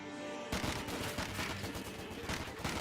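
Rifle fire from Jäger infantry in Company of Heroes 2 bursts in suddenly after a brief quiet start, then continues as dense, rapid overlapping shots of a sustained loud firefight.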